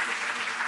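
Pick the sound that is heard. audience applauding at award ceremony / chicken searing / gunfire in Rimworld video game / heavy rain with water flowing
audience applauding at award ceremony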